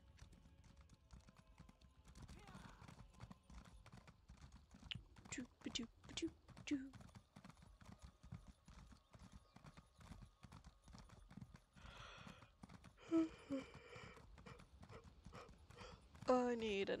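Horse hooves clip-clop in The Elder Scrolls Online, a steady rhythmic trot running through the whole stretch at moderate level, with a few brief game effects and faint speech in the background.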